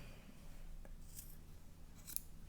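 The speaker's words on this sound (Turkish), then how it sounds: "Yaptığımız düğümün ucunu da gene keseceğiz." A pair of scissors snips the end of a yarn knot, a faint, brief cut close by in a quiet room, with no voices.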